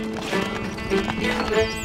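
A horse gallops in the castle strategy game Stronghold Crusader, with rhythmic hoof beats over a busy backdrop of game music and sound effects, steady and fairly close.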